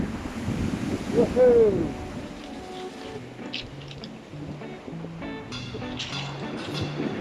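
Sea surf breaking on the shore at Alum Bay on the Isle of Wight during a fishing outing, a steady wash of waves with wind buffeting the microphone and a brief shout of excitement from a person early on.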